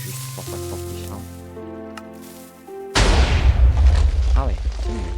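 A TNT cannon fires in a video game. A sudden loud booming blast arrives about three seconds in and rumbles on afterward, following a stretch of game sounds and a quieter lead-in.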